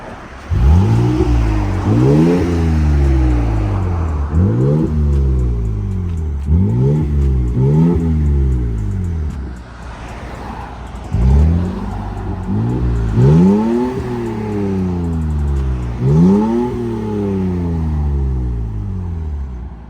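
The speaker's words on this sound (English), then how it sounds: "Give it some revs, give it some revs." Toyota Tacoma fitted with an aftermarket Amazon exhaust, revved repeatedly in sharp blips, each rising and falling, with a brief lull midway before another run of loud, close revs.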